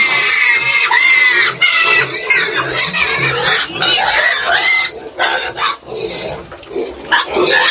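A hungry pig on a farm grunts and squeals loudly and repeatedly at close range, with busy, uneven bursts of oinking running the whole time.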